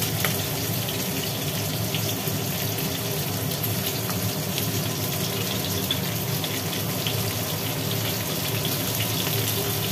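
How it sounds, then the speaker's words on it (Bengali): Cut ridge gourd dropped into hot oil in a kadai, giving a dense, loud, continuous frying hiss that holds steady for about ten seconds with no voices. "কেটে রাখা ঝিঙেগুলো ফেলে দিল তেলের ওপরে"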